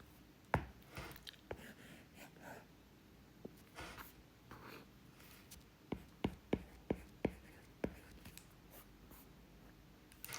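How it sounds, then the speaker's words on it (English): Pen strokes scratch across paper in short taps and scribbles while an algebra problem is worked out, close and fairly quiet, with brief bursts clustering near the end and no voice over them. "So I'm going to write negative 1 AC."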